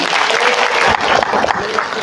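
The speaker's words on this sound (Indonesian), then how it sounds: "Tepuk tangan untuk Dr. Anggi" Brief, loud applause from an audience at an inauguration ceremony, a dense continuous clatter of many hands clapping close by.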